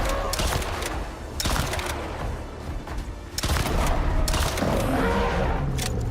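Gunfire in the video game Icarus while hunting: repeated loud close shots in uneven bursts and single cracks over a steady rumbling background, with a brief murmur of speech.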